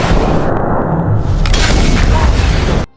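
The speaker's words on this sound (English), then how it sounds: "and he is killed by the explosion" A loud, deep boom as a mine explodes in a film, rolling on as a heavy rumbling blast before cutting off abruptly.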